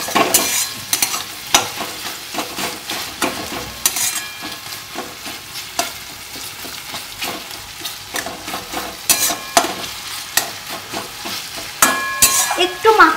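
Fried, softened eggplant being stirred and mashed in a hot pan: a busy run of sharp spatula scrapes and taps over continuous sizzling, close and fairly loud, with no voices.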